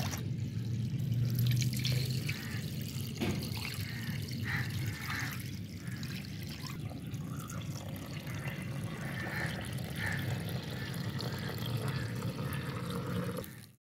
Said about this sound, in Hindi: पानी कम आ रहा है या मुझे लग रहा है कम आ रहा है, इसी के साथ धो रही हूँ